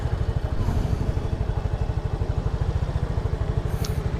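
Motorcycle being parked near a bridge in Norzagaray, Bulacan, its engine idling in a close, steady rapid low putter, with a brief faint high sound near the end.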